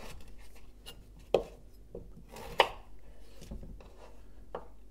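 Mixed vegetables roughly chopped with a knife on a board, a few scattered close thuds, two louder than the rest, with quiet gaps between cuts.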